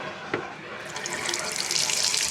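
Water and air sputter and rush from a bathroom sink faucet with its aerator removed as household plumbing is blown out for winter, the gurgling hiss swelling louder and more turbulent partway through, up close with no talking.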